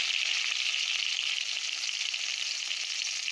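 Onions and chillies frying in hot oil for Maharashtrian methi bhaji, a steady, close hiss of sizzling that holds even throughout.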